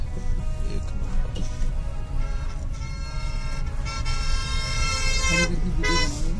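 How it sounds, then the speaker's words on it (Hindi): Horns toot repeatedly amid busy road traffic in Manali, several short honks overlapping steady engine rumble, fairly close and loud. "यहाँ पे भी हॉर्न बजा रहा है।"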